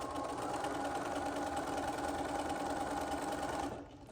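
A sewing machine stitches binding strips onto a cross-stitch pillow, running in one steady, even whir for a few seconds before stopping; close and alone.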